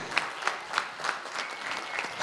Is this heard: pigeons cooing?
no